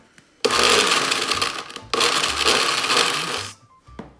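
A food processor pulses garlic and olive oil for pesto in two loud whirring bursts, each running about a second and a half with a short gap between, then cutting off to near quiet.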